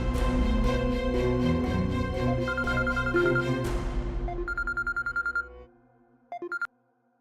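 A telephone call is placed over a swelling dramatic music score, followed by a series of short, evenly spaced ringing pulses and a few final electronic beeps.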